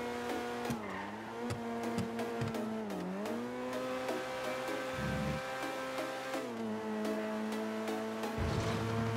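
A car driven in GTA V drones steadily with its engine pitch rising and dipping, punctuated by brief skids and revving bursts, loud and close throughout.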